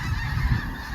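Geese honk in a low, dense chorus at a wildlife refuge, a steady overlapping clamor of many birds heard close and loud.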